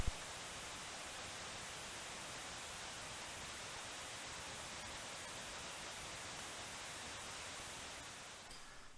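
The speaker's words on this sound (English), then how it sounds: "the sound is like white noise from an old television" Commodore 64 game Italy 90 Soccer gives off a constant hiss like white noise from an old television, steady and unchanging, fairly faint, fading slightly at the end, with no voices.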